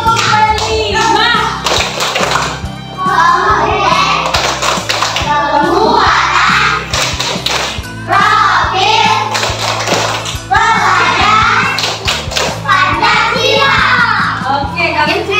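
Children in a classroom clap a rhythmic group pattern in repeated bursts of sharp claps, with young voices chanting and talking over the clapping throughout.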